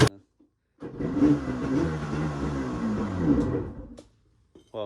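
An old, previously flooded Yamaha jet ski engine runs unevenly just above idle for about three seconds, a close, loud mid-pitched motor drone with a rough, wavering tone, then cuts out between short bursts of noise.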